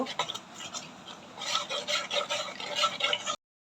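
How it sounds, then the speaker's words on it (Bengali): A spoon stirring milk powder into milk for homemade kulfi malai, a close rhythmic scraping and rasping against the bowl that grows busier before stopping abruptly. "এবার আমি গুঁড়া দুধটা দুধের সাথে ভালো করে মিশিয়ে নিব।"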